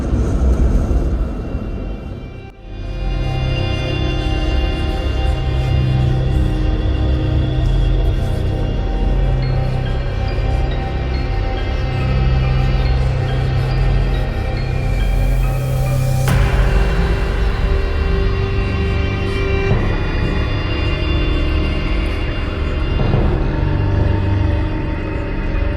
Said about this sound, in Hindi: सच्ची में आंधी आ रही है